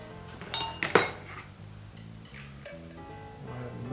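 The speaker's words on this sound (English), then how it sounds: "Go ahead and mix it a little to get it wet." A utensil stirs diatomaceous earth abrasive paste in a dish, giving a few sharp clinks and scrapes against the dish near the start, then softer intermittent scraping, close and alone with no talk.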